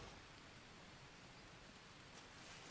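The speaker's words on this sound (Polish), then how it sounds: "Idzie deszczyk." Steady, faint rainfall in the video game Green Hell hisses evenly throughout, with no voices or other distinct sounds.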